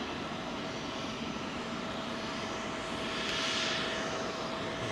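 A British Airways jet aircraft at London Heathrow, its steady engine roar filling the air at a moderate distance, swelling slightly toward the end with a broadband rush.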